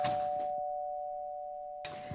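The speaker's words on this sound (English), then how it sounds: "I hear doorbell." A single doorbell chime rings out as a steady tone, slowly fading over a couple of seconds, with brief noises before and after.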